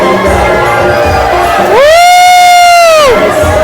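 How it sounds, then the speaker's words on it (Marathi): A loud crowd cheers and shouts at a dahi handi festival in Alibag, with continuous roaring voices and a long, high whistle-like tone rising over the din midway through. "जल्लोष बघा मित्रांनो"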